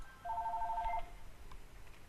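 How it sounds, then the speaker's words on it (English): A telephone rings in the background at a low level, one clear burst of ringing early on followed by fainter trailing tones, with no voices. "Just ignore the phone ringing in the background"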